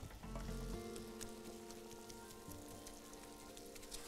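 Meat sizzles steadily in a pan as its liquid cooks off, being prepared as a filling for savory manakish pastries; a continuous close frying hiss with faint stirring, no voices.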